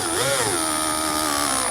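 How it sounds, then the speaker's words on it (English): A power drill fitted with a 3/16 bit bores out the center of a rivet while installing a Roadmaster Direct-Connect base plate kit on a 2020 Jeep, giving a steady, close, continuous whine with no talk. "we're just going to use a 3/16 drill bit to drill out the center of the rivet here"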